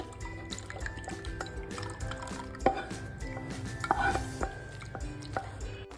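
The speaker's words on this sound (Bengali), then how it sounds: "এবার আমি একটা বোলের মধ্যে ঢেলে নেব" Cooled thickened milk with sago poured into a bowl for a dessert, thick liquid glugging and dripping up close with light clinks of utensils against the dish.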